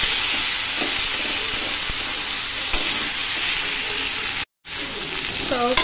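Chopped tomatoes fry in a pan with a constant close sizzle and stirring, briefly cut to silence for a moment before the frying resumes.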